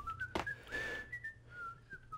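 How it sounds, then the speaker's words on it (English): Whistling in the video game Max Payne: a steady, melodic whistled tune carries through the whole stretch, with a brief sharp noise near the start and no talking. "Who the hell's whistling"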